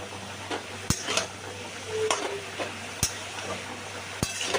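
Vegetables seasoned with turmeric and salt are stirred in a pan, with soft intermittent scraping and a few sharp utensil clinks against the metal over a low background hum.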